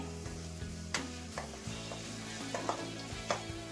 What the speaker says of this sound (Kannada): ಈರುಳ್ಳಿನ ಸ್ವಲ್ಪ ಎಣ್ಣೆಲೆ ಬಾಡ್ಸ್ಕೊಂತಾ ಇದೀನಿ.